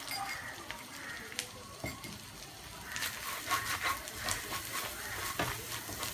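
Ginger and garlic paste sautéing in a pan for restaurant-style butter chicken, a quiet sizzle with occasional spoon scrapes and light clinks, fairly faint and close.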